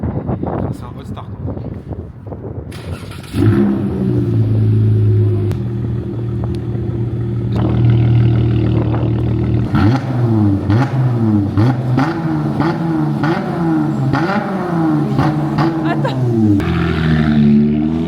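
A Dodge car engine hot-starts with a cranking burst, settles into a deep rumbling idle, then revs repeatedly in rising and falling surges, loud and close, with someone speaking briefly over it.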